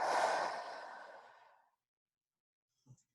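A single deep, breathy exhale during a guided relaxation exercise, close and soft, tapering off over about a second and a half and then giving way to silence and a faint click.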